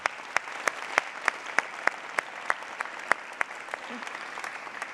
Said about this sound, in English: if we can have a big round of applause for our mic runners, please